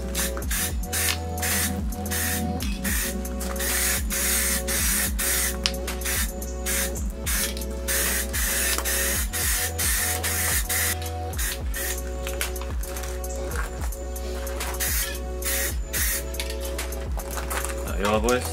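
A thin first coat of gloss black spray paint going onto a Fiesta ST MK6 rear diffuser, heard as a continuous aerosol hiss in short repeated bursts alongside a steady low mechanical hum, with talking over it.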